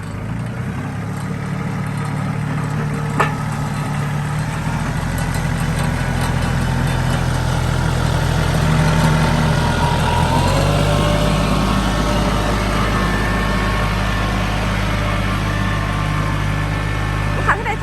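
A Yanmar EF352TEX tractor engine idles steadily up close, a low continuous rumble that deepens slightly partway through, with a brief click early on.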